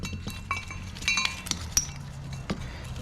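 Metal brake rotor on a Chevy Colorado front hub being rotated and slid loose, giving a few light clinks and scrapes scattered across a quiet workshop background.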